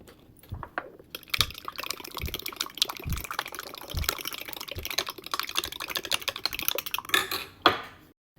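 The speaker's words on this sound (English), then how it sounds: "We're gonna mix this up. Get these eggs scrambled." Eggs with cream and shredded cheese are whisked by hand in a bowl, giving a fast, steady run of light clicking and splashing strokes that goes on for several seconds and stops abruptly.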